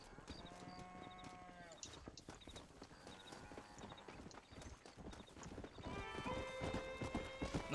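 Hooves clop in a steady rhythm in Red Dead Redemption, with a horse's whinnies and tonal in-game sounds layered over them, building louder toward the end.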